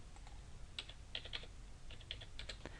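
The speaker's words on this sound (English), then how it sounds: "To use the Abatement e-tool, type in your inspection number." Keys tapped on a computer keyboard as an inspection number is entered, a quiet, close run of irregular clicks with brief pauses.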